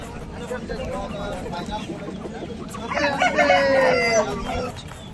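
Rooster, a black fighter breed, crowing at a village poultry market, one drawn-out crow near the middle over a busy background of clucking and chatter, with people talking throughout.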